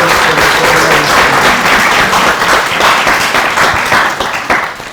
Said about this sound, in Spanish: recibámoslos con un fuerte aplauso todas las personas que estamos aquí presentes en el auditorio